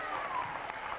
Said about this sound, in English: Let's have a big round of applause for our three winners.